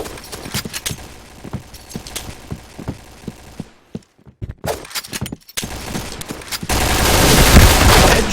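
Rapid gunfire in the online shooter Point Blank (Project Blackout), a string of sharp, evenly spaced shots up close, then a short pause, a few more bursts, and a loud sustained roar of action at the end.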